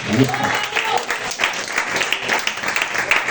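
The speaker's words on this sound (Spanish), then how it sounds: "denle un aplauso al Señor" A church congregation claps for the Lord during a sermon on Revelation, a brief burst of scattered applause that rises and thins quickly, with a voice talking over it.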